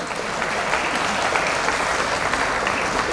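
An audience claps together in sustained, dense applause, loud and close, holding steady for the whole few seconds with no clear voices above it.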